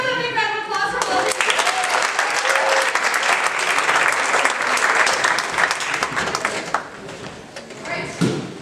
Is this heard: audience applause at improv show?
yes